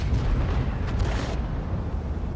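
A deep, rumbling boom rolls through continuous low-frequency noise, with a brief brighter burst near the middle: an artillery blast in a tank video game.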